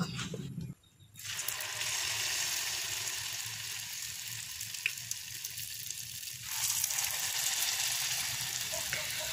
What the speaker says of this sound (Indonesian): Setelah itu kita ambil adonannya ini untuk digoreng ke dalam wajan satu per satu.